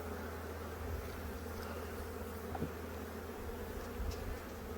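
Honey bees buzz steadily during a nuc transfer on a farm, a continuous close hum with occasional louder passes of single bees and no talk.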